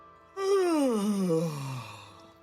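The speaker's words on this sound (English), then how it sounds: "Nothing I want to talk about makes a yawn/orgasm sound and then says goodbye." An NPC in The Elder Scrolls IV: Oblivion Remastered lets out a single drawn-out moan like a yawn that starts abruptly, slides downward in pitch and tails off over about two seconds, clear and close.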